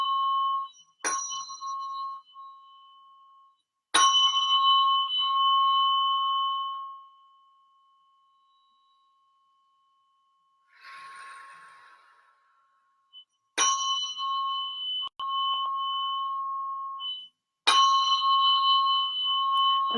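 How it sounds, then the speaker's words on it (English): A tuning fork is struck repeatedly during a Biofield Tuning session: four sharp, clear strikes, each ringing out in a sustained metallic tone that slowly fades, with a soft rustle in one quiet gap. "Sort of thin quality to the sound that the fork is producing."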